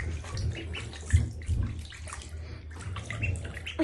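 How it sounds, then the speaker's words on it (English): Water splashing and sloshing in a bath as ducklings paddle, with irregular close splashes and a few sharper bursts, no talk. "Splash water on my face."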